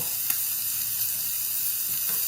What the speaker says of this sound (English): you can hear them sizzling. They're smoking a little bit.